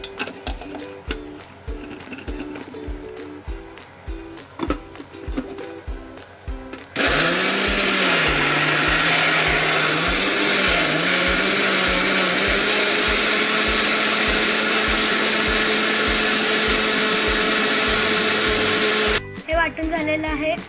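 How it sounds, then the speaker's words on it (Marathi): A kitchen mixer grinder purees cooked, peeled tomatoes with masala, running as a loud, steady whir for about twelve seconds with slight pitch dips as the load shifts, preceded and followed by brief talk. "आता आपण हे मिक्सरला लावू."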